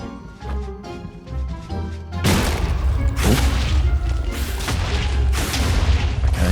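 Explosions in Minecraft tear through a swarm of mobs at a custom-built mountain, a dense run of booming thuds and crashing blasts that follows a quieter stretch with music.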